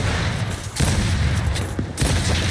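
Gnasher shotgun blasts in Gears 5 ranked play, a rapid string of loud, close booming shots in quick succession with short gaps between volleys.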